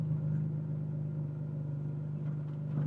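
A 2008 Ferrari 599 GTB Fiorano V12 rolling slowly over speed bumps, its engine a steady low idle rumble close by, with no talking.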